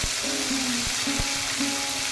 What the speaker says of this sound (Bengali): আদা বাটাটা তেলের মধ্যে 30 সেকেন্ডের মতো ভেজে নিচ্ছি